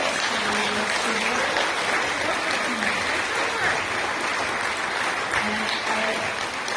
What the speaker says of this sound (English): Please give a round of applause for all of your candidates.